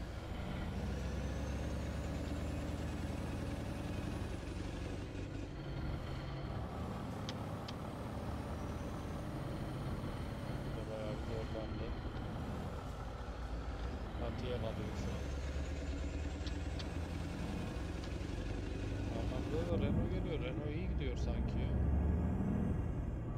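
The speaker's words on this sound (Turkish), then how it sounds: "Aracı biraz dışarıdan sürüyoruz. Hem motor sesini dinlemiş oluruz." A Ford F-Max truck engine rumbles steadily while driving on a rough road, a continuous low drone with occasional hisses and rattles. It runs for the whole stretch, with a voice talking over it.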